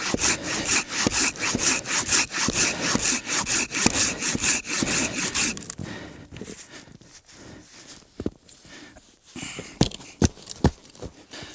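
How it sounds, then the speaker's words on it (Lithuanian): A hand saw cutting a wet wooden log outdoors in a forest. Rapid, steady back-and-forth rasping strokes come close and loud at first, then slow to sparser, heavier strokes, with no talk. "Šlapės rastas irgi labai blogai pjaunas."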